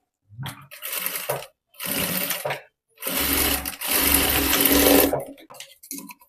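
Close, loud bursts of a sewing machine stitching a blouse shoulder seam, four separate runs of rapid whirring with short pauses between them and a few faint handling clicks after.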